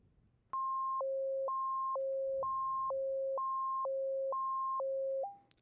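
Steady FM synth tone from an Operator synthesizer with square-wave vibrato, jumping abruptly back and forth between two pitches in an even, regular rhythm, clean and alone, ending on a held tone.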